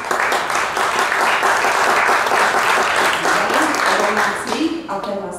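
Sustained audience applause rings out at a Slovak folk music contest honoring its contestants, steady and loud for several seconds before thinning out near the end.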